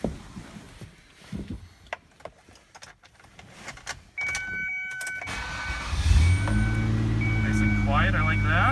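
A Ford Escape with a newly replaced catalytic converter: door and key handling sounds, then the starter cranks and the engine catches into a steady, quiet idle up close.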